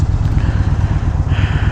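Yamaha Bolt R-Spec 2018 cruiser motorcycle rumbles steadily while riding, a low continuous engine drone mixed with wind noise, loud and close throughout.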